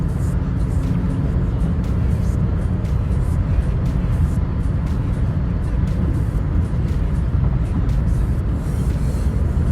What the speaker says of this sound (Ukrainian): Всі шість передачок гарно переключають.